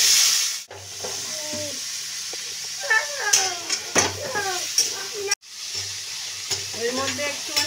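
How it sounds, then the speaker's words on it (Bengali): Pieces of papaya fry in hot oil in a wok, giving a constant sizzle with repeated scraping stirs. The frying cuts out abruptly twice. "পেঁপেগুলো আমি ভেজে নিচ্ছি।"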